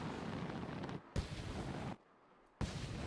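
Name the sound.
robot exploding in Mars First Logistics video game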